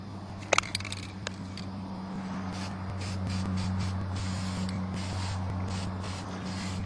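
Spray paint hissing out of a can through a stencil in a steady, sustained spray lasting several seconds, preceded by a few sharp clicks and rattles, close and fairly loud with no talking.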